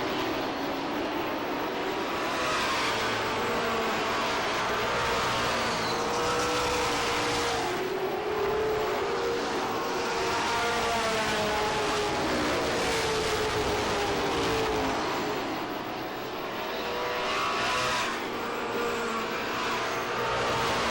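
Pro stock race cars lap the oval at Lee USA Speedway in a 1993 feature race, a continuous droning roar of engines that swells and fades as the field circles, with no talk over it.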